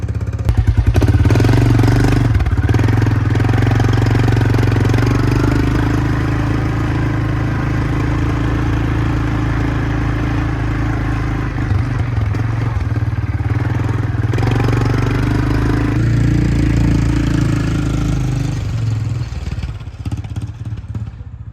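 A repaired four-wheeler ATV engine runs steadily at a loud, close idle, giving a continuous low rumble with some mechanical clatter throughout.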